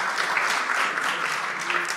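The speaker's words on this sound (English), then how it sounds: "I applaud them again in Hebrew and in English." Steady, dense applause from a conference audience in New York for three women being honoured, sustained and even throughout without a break.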